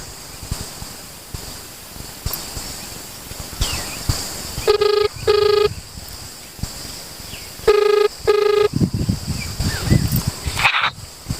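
A phone rings electronically in two short bursts, goes quiet, then rings twice more, over faint rustling background noise.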